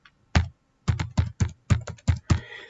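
Typing on a computer keyboard as an email address is entered, with close, crisp key taps: one isolated stroke, then quick irregular bursts of clicks with short gaps and no talking.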